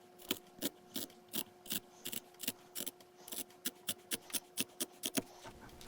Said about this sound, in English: Trim these seam allowances down to 1/8 inch.